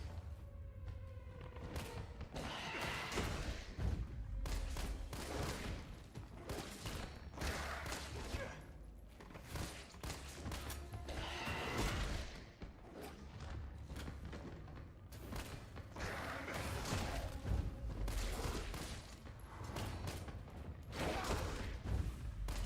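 Pistol gunfire and impact thumps from the Resident Evil video game, with repeated sharp bursts running steadily for about twenty seconds amid a dense, busy game soundscape.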